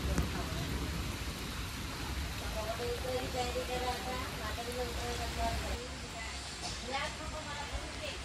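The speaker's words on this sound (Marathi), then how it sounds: "कंटिन्यू पाऊस चालू आहे." Continuous heavy rain at night near Nandgaon Road on the Konkan line makes a dense, steady wash of patter, moderately loud and unbroken throughout, with indistinct voices underneath.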